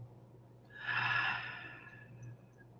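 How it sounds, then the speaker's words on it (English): A single slow, deep breath is drawn in during a diaphragm breathing exercise and then held. It is a soft, close airy inhale that swells and fades, followed by quiet stillness. "So I want you to practice some diaphragm breathing."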